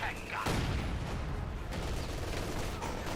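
Tank cannon fire from a T-70 light tank in the video game Company of Heroes 2, a sharp blast followed by a dense battle din of gunfire and explosions, loud and continuous.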